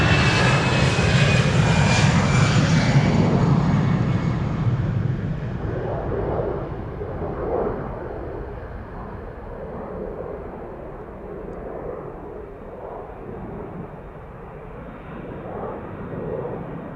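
A KLM jet airliner bound for San Francisco departs Amsterdam Schiphol Airport, its engine roar loud and close at first, then fading steadily into a distant rumble as it climbs away.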